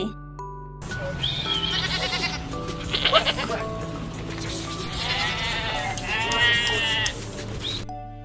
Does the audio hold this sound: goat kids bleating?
yes